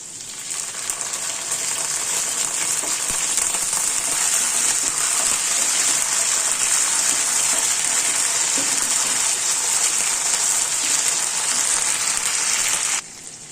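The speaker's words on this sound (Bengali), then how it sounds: "এবার আদাটা আর কাঁচা লঙ্কা বাটাটা একটু ভালো করে ভেজে নিলাম।" Ginger and green chili paste frying in a pan, a steady loud hiss and sizzle that holds evenly for over ten seconds before stopping abruptly near the end.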